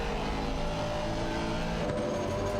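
An Aston Martin Vantage GT4 engine drones at high revs on the Barcelona circuit in Assetto Corsa Competizione, a loud, continuous buzzing tone with a slight pitch dip as the car nears a braking zone.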